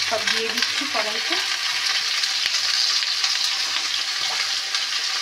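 Vegetables hiss loudly in hot oil in a wok and are stirred, with a steady close sizzle and a few spatula scrapes and knocks.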